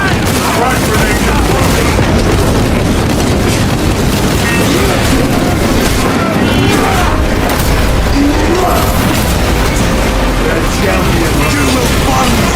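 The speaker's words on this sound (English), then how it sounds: "Frag grenade" Frag grenade blast in Space Marine 2 amid a dense, continuous barrage of booms, gunfire and battle noise, loud and unbroken throughout, with voices mixed into the chaos.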